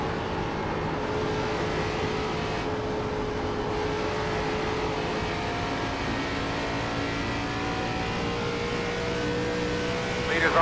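Race cars in a sim racing game, an ARCA event at Dover, come down pit road. A steady, layered engine drone holds with a faint tonal whine through most of it and rises slightly at the very end.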